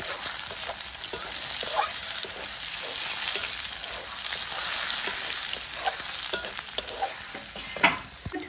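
Curry leaves fry with turmeric in a hot pan, crackling and sizzling steadily up close while a spoon stirs now and then, with a sharper scrape near the end.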